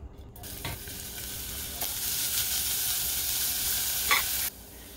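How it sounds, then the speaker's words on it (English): Onions sautéing in a pan for a pizza dinner, a sudden bright hiss that holds steady and loud for several seconds with a few clicks of stirring, then cuts off. "toss in the onions and cook that all together for a little bit"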